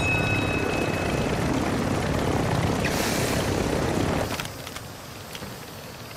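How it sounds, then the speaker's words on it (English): A helicopter in the online shooter game DMZ drones loudly and steadily, then drops to a quieter rumble about two-thirds through as it comes in to land. "Trying to land my helicopter, that's it."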